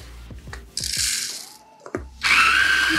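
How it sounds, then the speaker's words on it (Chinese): Gold Story coffee grinder grinding beans for iced coffee: a few light taps, then two loud bursts of steady whirring grinding, close up, with no one talking. "我使用的磨豆机就是最新的，还没有问世的，叫做 Gold Story"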